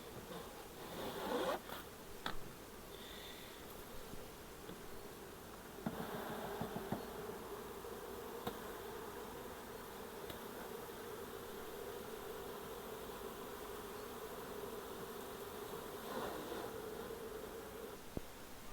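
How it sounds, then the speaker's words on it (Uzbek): A honeybee swarm being gathered from a tree gives a steady, faint drone of buzzing throughout, with occasional soft knocks and rustles nearby and no talking. "Mana daraxtda ozgina ari qoldi."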